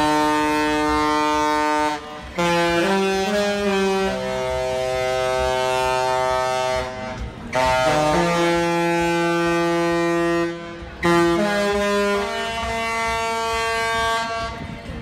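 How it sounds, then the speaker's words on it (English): The Regal Princess cruise ship's horn plays the Love Boat theme as loud, sustained, multi-toned blasts in a melodic sequence, with brief gaps between phrases and ringing out alone. "the horn is actually the theme song for the Love Boat"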